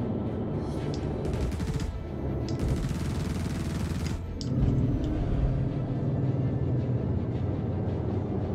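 A ship in Star Citizen fires bursts of gunfire, two dense crackling volleys of rapid shots over a steady engine rumble, followed by a deeper swelling roar.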